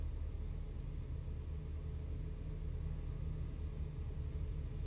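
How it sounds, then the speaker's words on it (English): Cars passing on a road on a Los Angeles to Vancouver drive, heard as a faint, steady low rumble of traffic without distinct individual pass-bys. "that little sound of the cars"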